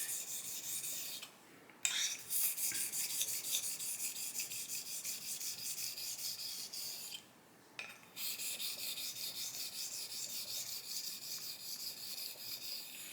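A blade edge is honed on a Shapton 1500 whetstone after an Atoma 600 stage, making a steady, close rasping scrape of repeated strokes with two brief pauses.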